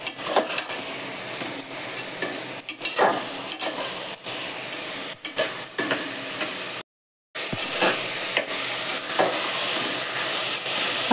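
Chopped vegetables with mint and coriander being sautéed in a pan, a constant loud sizzle broken by repeated scraping and clinking stirs, close up, with one brief dropout of silence partway through.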